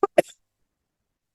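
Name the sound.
cough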